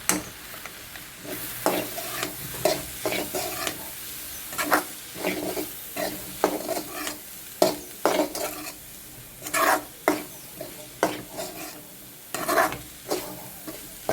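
Spiced vegetable curry with chilli powder and turmeric being stirred in a pan, a steady run of scraping and clacking spoon strokes against the metal, close and fairly loud, with no talking.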